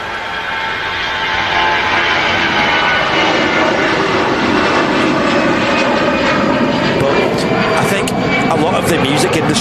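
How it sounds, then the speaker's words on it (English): A Lufthansa Airbus A319 bound for Munich rolls for takeoff at Manchester Airport, its engine roar swelling within the first two seconds and then holding loud and steady, with a voice talking over it. "Now rolling his Lufthansa A319 to Munich."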